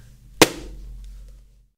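An improvised crash effect stands in for a man falling down stairs: a single sharp, loud bang that decays into a short rumbling tail before silence.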